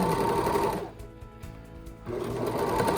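A sewing machine stitches a fabric scrub cap in steady, loud whirring runs, pausing briefly midway before starting up again, with no talking.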